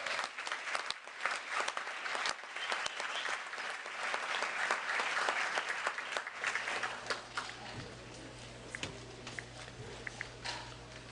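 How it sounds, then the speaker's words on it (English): Audience applause fills a town hall meeting, dense and sustained at first with sharp individual claps standing out, then thinning toward the end as a low hum remains. "You guys give him a round of applause."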